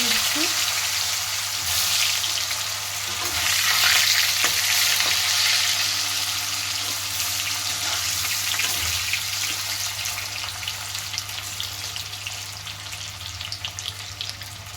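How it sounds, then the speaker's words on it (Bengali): Raw banana pieces frying in oil in a wok, a steady, close sizzle that swells and then settles over a constant low kitchen hum. "এবার এই তেলটার উপরে আমি কিন্তু কলা আর আলুটা ভেজে নেব প্রথম প্রথমে কলাগুলো ভেজে"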